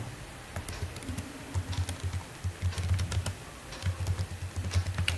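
Steady typing on a computer keyboard, a brisk run of close key clicks that pauses briefly around the middle and then resumes, with no talking.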